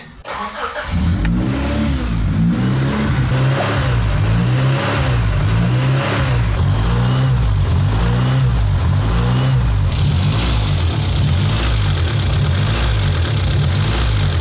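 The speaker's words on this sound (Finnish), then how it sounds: "Eli kone nyt siis käy ihan mutta se käy ja se käynnistyy" An old 1990s Honda car engine starts and runs at high revs, settling after a brief crank into a loud, steady, slightly surging drone that holds close by and uninterrupted.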